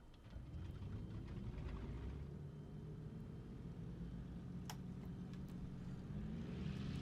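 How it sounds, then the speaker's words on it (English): A simulated P-51 Mustang piston engine in Microsoft Flight Simulator 2020 runs after starting, a low, steady, rumbling drone that stays fairly quiet and even throughout, with faint clicks on top. "Okay, we have engine start."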